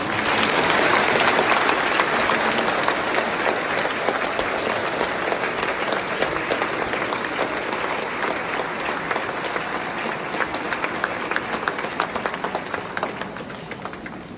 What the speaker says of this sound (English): I think we ought to give them a round of applause.